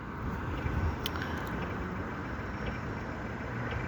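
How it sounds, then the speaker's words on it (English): Street traffic rumbles on with a car engine idling nearby, a steady broadband drone that stays even and moderately loud, with a few faint clicks and no clear voice. "I'm so sorry if the traffic is too loud"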